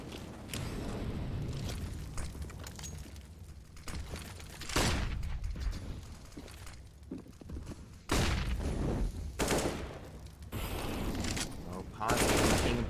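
Counter-Strike gunfire on the Vertigo map in a professional match: rapid rifle bursts and single shots in repeated volleys over a busy game backdrop, with a commentator talking throughout.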